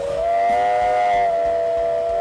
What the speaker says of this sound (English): being invited into the cab and getting to blow the whistle